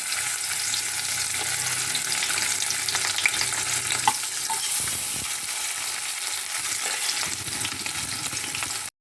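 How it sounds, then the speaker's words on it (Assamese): Marinated fish pieces fry in hot oil in a kadai, giving a loud, dense, continuous sizzle and crackle that holds steady throughout, with a few faint clinks along the way. "এতিয়া মেৰিনেট কৰি থোৱা মাছকেইটা এটা এটাকৈ দি দিম"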